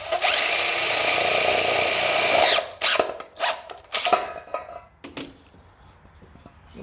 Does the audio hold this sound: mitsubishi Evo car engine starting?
no